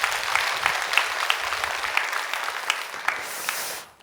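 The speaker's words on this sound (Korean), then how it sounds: "우리 하나님 앞에 영광의 박수 한번 하겠습니다." Congregation clapping in a church after a prayer, a dense steady applause throughout that stops abruptly at the end.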